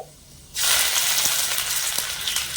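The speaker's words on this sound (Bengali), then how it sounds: "এই ফোড়নগুলো হালকা করে ভেজে নেবো" Panch phoron, dried chili, bay leaf and chopped ginger hit hot oil and burst into a loud, steady sizzle that continues unbroken after a quiet moment.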